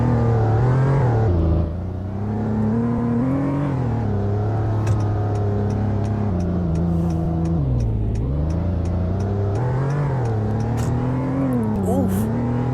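A Toyota work truck engine runs steadily and loud throughout, rising and falling in pitch as it revs, with a brief dip near the start.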